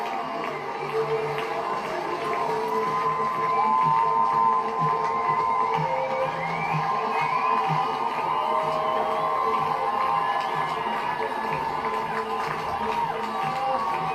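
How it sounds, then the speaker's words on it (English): Spectators at the 2024 Berlin Marathon roar as runners finish, a steady, loud wash of crowd cheering and whooping that holds from start to end with no pauses. "the crowd roaring these athletes home as well they should"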